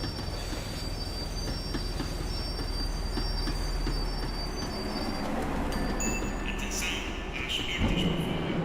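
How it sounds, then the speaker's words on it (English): A tram in the video game Max Payne 3 rolls along rails and brakes, with a steady low rumble under high metallic wheel squeals that grow sharper near the end as it slows. "The tram was slowing down, and I'd only just gotten on board."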